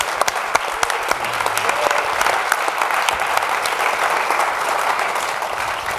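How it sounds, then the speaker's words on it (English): A crowd at a panel event applauds steadily and continuously, a dense wash of many hands clapping at close range with no pause throughout. "Can we give one more round of applause to our panel?"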